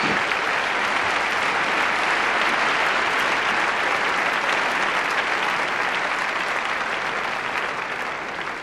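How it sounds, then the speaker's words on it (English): Sustained crowd cheering and applause at a 2000 Swiss Cup mixed pairs gymnastics competition after a routine by a Russian gymnast, loud, dense and steady throughout, easing slightly at the end. "the crowd cheering a bit extra for the Russian gymnast"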